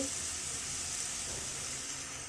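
Garlic charring and sizzling over a flame while being burnt for tomato-garlic bharta, a continuous bright crackling hiss, fairly close and steady throughout.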